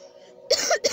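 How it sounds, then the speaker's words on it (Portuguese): A quick, harsh throat clearing close to the mic, two short rasping bursts after a moment of near silence. "deu um pigarrinho aqui agora"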